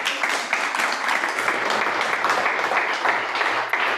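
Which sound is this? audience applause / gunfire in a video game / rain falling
audience applause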